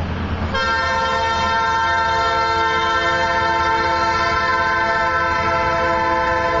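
A train horn blares loudly and steadily in a sustained chord over the low rumble of a passing train, holding for several seconds.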